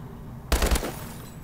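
Gunfire in a first-person shooter video game, a single short rapid burst of automatic shots, loud and close, then a quick fade into quiet background.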